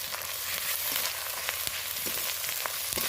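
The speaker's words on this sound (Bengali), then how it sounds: "আর পরিমাণ মতো আদা বাটা দেখো কতটা আদা বাটা দিলাম" Ginger paste frying for a meat curry gives off a continuous soft sizzle with small crackles and pops, steady and close, with no talk.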